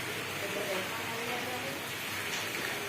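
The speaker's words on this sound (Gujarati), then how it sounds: "સુરતમાં ધોમકાર વરસાદ આવે છે" Steady, dense heavy rain hiss in Surat fills the whole clip, a continuous wash of falling water with a faint voice murmuring underneath.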